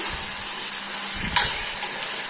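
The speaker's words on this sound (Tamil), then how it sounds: "போட்டு தக்காளி நல்லா வேகிற வரைக்கும்" Chopped tomatoes with turmeric powder frying in a pan for drumstick sambar, giving a soft steady sizzle with a few faint stirring scrapes and one brief clink, no talking.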